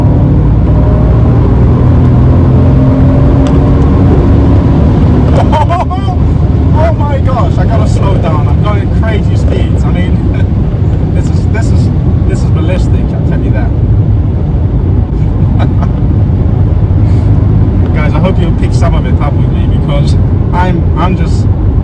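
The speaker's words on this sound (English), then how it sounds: "This car, when you're kind of doing slower speeds and put your foot down, it's all over the place." A Mercedes C63 AMG engine pulls hard along Polish country lanes, a loud, rumbling drone with throaty surges under cabin road noise, while someone talks over it for much of the time.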